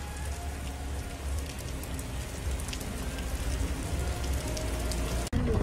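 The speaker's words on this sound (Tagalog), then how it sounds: "Umuulan dyan." Steady rain falls on a street in the Philippines, a dense, even hiss of drops on hard surfaces that holds at moderate volume throughout, with one brief dropout near the end.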